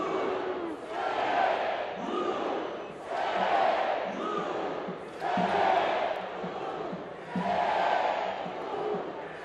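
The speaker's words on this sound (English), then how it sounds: "the fans getting fired up by Jack Harlow here for this matchup" A large stadium crowd of soccer fans at a Louisville City FC versus Tampa Bay Rowdies match chants in rhythmic, swelling waves, roaring together about every two seconds at a moderate distance.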